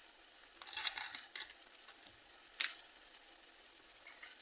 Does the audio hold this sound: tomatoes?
yes